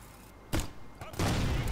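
Gunshots fired at a wall in the video game Ghost Recon: Future Soldier: a few muffled, booming bursts with one heavy blast toward the end, set against a dull, noisy background.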